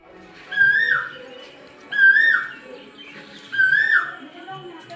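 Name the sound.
Asian koel calling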